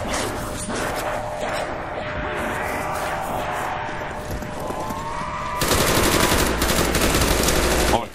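Rapid automatic gunfire from a gun in Call of Duty Nazi Zombies on the Ascension map, sustained bursts over game noise and music, growing louder and denser near the end.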